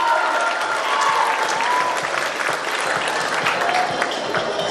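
Audience applause at a pageant awarding night, dense sustained clapping from a crowd that stays loud and even throughout.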